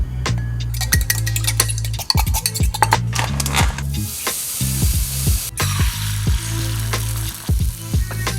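Turkey bacon sizzles in a frying pan while utensils clink and scrape against it, the steady frying hiss heard under loud rhythmic background music.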